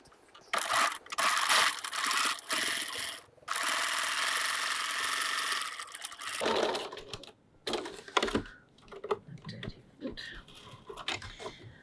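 A sewing machine runs in close, loud bursts as it stitches along the edge of a fabric pouch exterior at a long stitch length. The steady mechanical whirr stops and starts, then gives way to clicks and handling noises.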